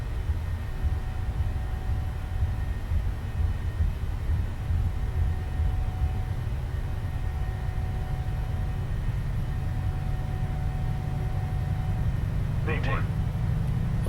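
Boeing 737 jet engines at takeoff thrust in a PMDG flight simulator, a steady loud rumbling roar with constant hiss and a faint tonal whine, under a brief spoken callout near the end.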